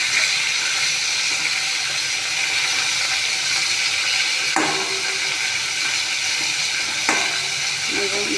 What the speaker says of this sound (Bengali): চিংড়ি মাছ বসিয়ে দিয়েছি ভাজা